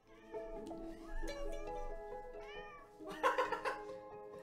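A cat meows several times on a table during a Pokémon card opening, a clear close series of rising and falling cries with a louder, harsher burst near the end.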